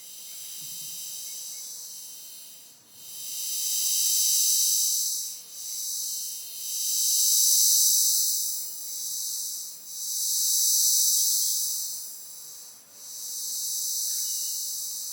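Continuous high-pitched cricket chirping in steady pulsing waves, loud and unbroken, with no voices.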